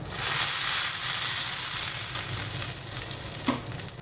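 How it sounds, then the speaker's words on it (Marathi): Cumin seeds sizzle and crackle in hot oil for a tempering, a loud, steady frying hiss close up with faint stirring, no voices. "जिरं चांगलं तडतडतं आहे"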